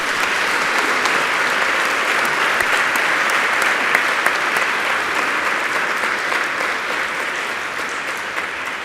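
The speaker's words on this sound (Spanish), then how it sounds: "Demos un aplauso." Sustained, even applause fills the room as an audience claps for the guests of a panel dialogue on freedom of conscience held at the former National Congress building in Santiago.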